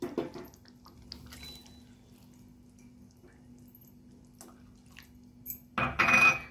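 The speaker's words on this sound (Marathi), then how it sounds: "आणि यामध्ये गरम पाणी घालायचं." Hot water poured into a toor dal and fenugreek seed curry, a brief loud splashing pour near the end after a long, quiet stretch of low hum, with no talking.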